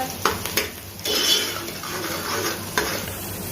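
Onions fry in a pan with a steady sizzle while making daal mash, a spoon stirring and scraping against the metal now and then, close and moderately loud.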